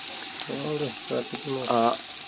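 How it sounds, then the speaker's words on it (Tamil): Onions frying lightly in a pan for veg biryani, a continuous hissing sizzle running beneath voices that talk over it throughout. "இப்போ தான் வெங்காயத்தை போட்டு லைட்டாக ஃப்ரை பண்ணிட்டுருக்கோம்"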